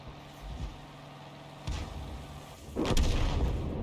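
An M41 HMC self-propelled gun fires in a tank video game, with a few booming artillery shots and rumbling blasts, the loudest one near the end.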